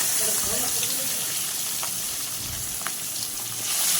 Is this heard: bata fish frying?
yes